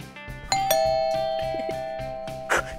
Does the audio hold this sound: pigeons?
no